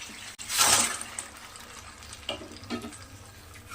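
Jaggery pieces being stirred into melted sugar syrup in a pan for peanut chikki, with a sharp scraping clatter near the start, then softer intermittent stirring scrapes and a light sizzle close by.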